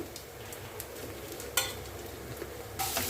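Millet and onion vadam frying in oil makes a soft, continuous sizzle with occasional brief crackles and stirring clinks, growing louder at the end.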